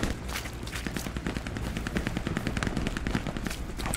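Machine guns keep up fire in Hell Let Loose during a large infantry attack on Carentan, with dense, rapid bursts of shots that are loud and sustained throughout, backed by a rumbling battlefield din.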